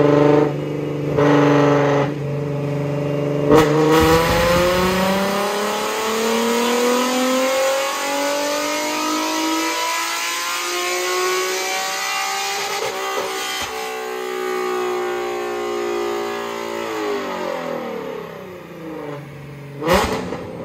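A naturally aspirated Nissan VQ35/VQ37 engine on E85 fuel revs hard on a dyno, its loud tone climbing steadily through the rev range, holding near the top, then dropping as it winds down between pulls.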